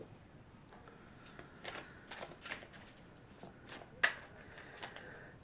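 Tarot cards for a reading being shuffled up close, a soft steady riffling and slapping with a sharper snap near the end, fairly quiet and alone.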